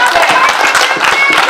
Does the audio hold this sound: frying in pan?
no